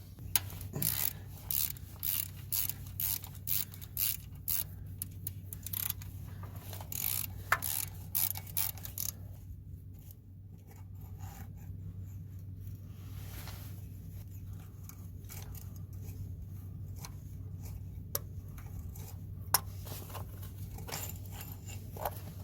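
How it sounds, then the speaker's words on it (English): A ratchet with a 13 mm socket and 6-inch extension clicks off the starter mounting bolts on a 1999–2006 Chevy Silverado, rapid close bursts of pawl clicks, then quieter scattered clicks over a steady low hum. "this requires the 13 millimeter, and I'm using a 6-inch extension and a ratchet"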